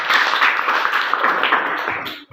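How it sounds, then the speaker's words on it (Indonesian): A classroom of students applauds a group of classmates, with dense, loud clapping that carries steadily and then cuts off abruptly at the end. "Tepuk tangan buat kelompok 1."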